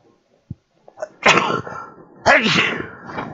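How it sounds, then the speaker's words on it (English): A single loud human sneeze after a short gasping intake of breath, followed by a second forceful burst, close and otherwise quiet. "Excuse me, I need to sneeze."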